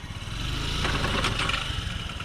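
A broken moped engine being revved after its drive belt snapped, a steady close mid-pitched engine drone with a rough strained edge and a slight rise midway, no talk.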